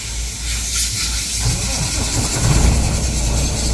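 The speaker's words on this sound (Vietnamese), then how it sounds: "Thì sẽ nổ máy động cơ cho mấy em xem." A container truck's diesel engine starts and settles into a loud, steady rumble with a strong whooshing rush of air being drawn into the intake, close by and continuous.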